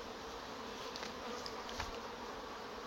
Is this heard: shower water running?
no